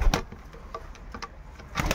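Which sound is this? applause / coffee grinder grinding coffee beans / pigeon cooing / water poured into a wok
pigeon cooing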